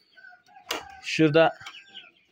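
Farmyard chickens and young pullets give a few short clucks close by, while someone says a brief word between the calls.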